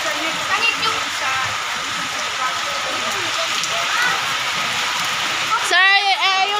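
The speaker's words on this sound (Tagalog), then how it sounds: "umuulan dito guys. Ang lakas-lakas guys." Heavy storm rain pours down in a steady, loud roar, with voices talking faintly over it.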